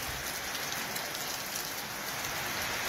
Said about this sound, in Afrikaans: wanneer laas het ons ook al reën gehad?